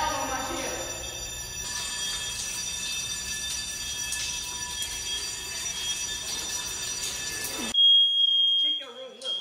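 A fire alarm sounds continuously in a flooded apartment, a steady high electronic tone over rushing water noise and people talking, then the tone carries on alone more clearly near the end.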